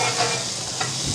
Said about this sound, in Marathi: मोठ्या गॅसवर छान परतून काढायचं